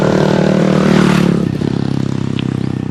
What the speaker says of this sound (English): loud scooter